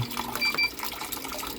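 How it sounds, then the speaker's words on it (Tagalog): Water rushes steadily into a washing machine running on a replacement control board, a continuous close splashing fill with no talking. "Yan, magkakarga siya ng tubig."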